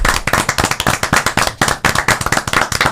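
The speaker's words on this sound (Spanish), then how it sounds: "Vamos a recibirlo con un aplauso" Studio audience claps to welcome a former president of the Supreme Court of Justice onto a Dominican TV show, with dense, loud, rhythmic applause running steadily throughout.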